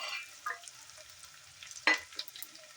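Faint frying of okra with softened onions in a pan for bendekai gojju, with a quiet sizzle and a couple of short stirring scrapes, one sharper scrape near the end.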